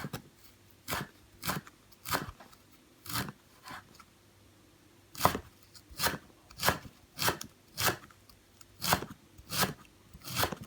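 A knife cuts through a thick stack of dried Plantago leaves, shredding them finely the way kaffir lime leaves are cut. About fourteen crisp, close slicing strokes come at a fairly steady rhythm, with no talking.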